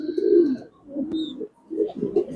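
Racing pigeons, light-coloured pied birds kept for sale, coo close by in three soft, throaty bouts separated by short pauses, with a faint chirp mixed in.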